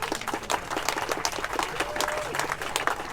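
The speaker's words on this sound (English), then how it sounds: "a round of applause for that." An audience applauds at the groundbreaking of a long-awaited skate park in Reading, the steady clapping lasting throughout and mixed with crowd noise and some speech.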